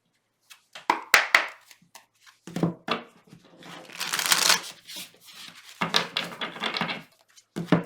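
Tarot cards being shuffled by hand during a reading, with a run of crisp riffling and slapping bursts, close and irregular, broken by short pauses.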